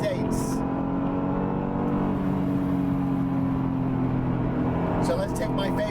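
An Acura NSX with a VTEC engine drives along a lakeside road, its engine holding a steady, high-revving drone from inside the cabin, with someone talking over it.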